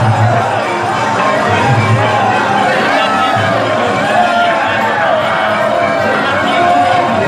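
A dense, jostling crowd at the Nand Mahal temple in Nandgaon celebrating Krishna's birth produces loud, unbroken babble and scattered shouts close by.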